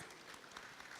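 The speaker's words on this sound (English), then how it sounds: "Please give a round of applause." Dense clapping from a conference audience at a tech summit, a continuous wash of applause.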